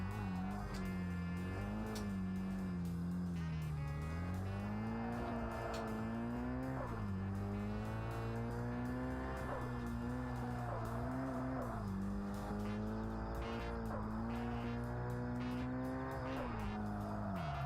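A race car in a Japanese touge racing game revs continuously, its engine pitch climbing and dropping through gear changes, with tire squeal over the top. Steady and sustained throughout.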